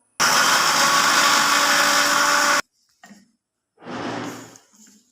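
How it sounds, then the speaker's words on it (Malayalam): A mixer grinder blends pineapple pieces with water for a mojito, a loud steady whirring roar for about two seconds that cuts off abruptly, followed by a few brief clatters and a short rustling handling noise. "ഇനി ഇതൊന്ന് ബ്ലെൻഡ് ചെയ്തെടുക്കണം"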